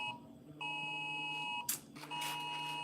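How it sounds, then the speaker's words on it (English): A phone emergency alert sounds in a kitchen, a loud sustained electronic beeping tone that breaks briefly and then resumes. "That's emergency alert."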